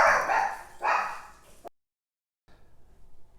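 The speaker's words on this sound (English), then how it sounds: "we heard the dog in the background" A dog barks twice in the background indoors, two rough woofs about a second apart. Then the sound cuts to brief silence, and quiet room noise follows.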